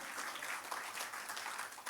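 Church congregation applauding during a Sunday service, a steady, moderately distant wash of clapping with no voices over it.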